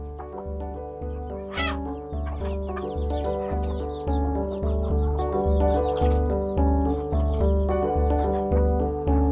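Native desi village chickens in a tribal village in Koraput, Odisha cluck in a quick, regular series of close, loud calls that build slightly in volume, with one sharp higher squawk early on.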